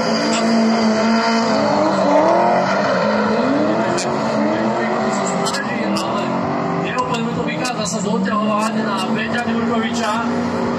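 Drift cars, a Lada and a BMW, run a tandem pass with revving engines and squealing tires, loud and sustained throughout while a commentator talks over them.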